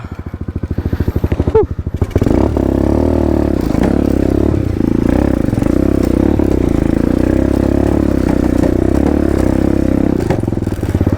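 Honda MSX 150 motorcycle fitted with a Keihin PWK flat slide racing carburetor revs loudly up close, a rapid sputtering idle rising into a sustained, buzzing high-rpm roar with rattly mechanical clatter.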